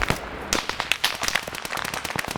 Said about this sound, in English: We just had a grenade get thrown.